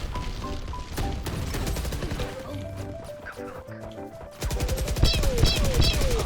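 Gunfire in the shooter game Valorant rattles out in rapid bursts of sharp shots, loud and close, mixed with other game sounds, then grows denser toward the end.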